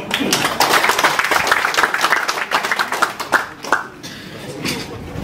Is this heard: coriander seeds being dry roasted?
no